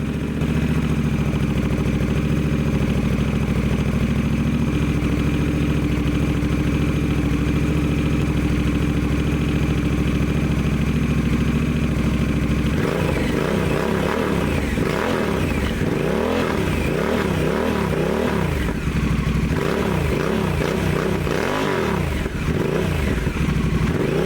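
A loud Honda Rebel 1100 motorcycle with a throaty aftermarket Kaufman exhaust idles steadily, then is revved repeatedly in sharp bursts that rise and fall, close by with no talking.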